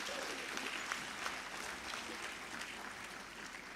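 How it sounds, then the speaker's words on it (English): An audience claps for exhibitors at the valedictory session of a regional conference. The applause is faint and distant, a steady wash of many hands. "Please give them a big applaud to all the"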